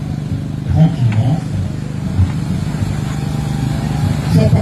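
Land Rover engine rumbling at low, steady revs while the vehicle crawls over off-road obstacles, with small surges throughout and what sounds like voices partly mixed in.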